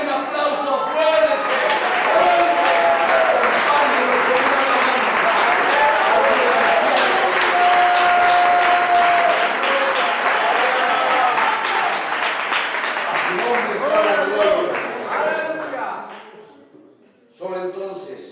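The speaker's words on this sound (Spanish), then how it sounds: "Denle un aplauso fuerte" A church congregation gives loud, sustained applause, a thick wall of clapping mixed with shouting and cheering voices that carries for a long stretch before fading and stopping near the end.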